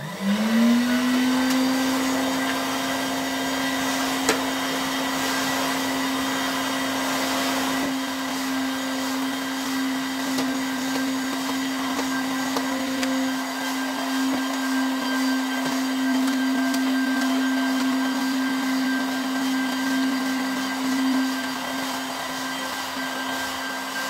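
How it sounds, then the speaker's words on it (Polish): A 1966 Elector vacuum cleaner runs steadily on a dirty carpet in a home room, its motor starting with a rising whine and then holding a loud, constant drone with faint shifting brush noise throughout, no voices. "chciałem Was zaprosić na test tego odkurzacza w praktyce. pójdziemy do mnie do domu i poodkurzamy trochę dosyć już brudny dywan"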